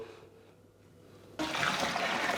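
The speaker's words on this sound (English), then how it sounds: "So the remainder of the water I'm going to put in there." Water pours into a plastic beer fermenter while brewing a Coopers Mexican Cerveza kit, a sudden loud rushing splash that starts after a quiet moment and keeps going steadily, close by.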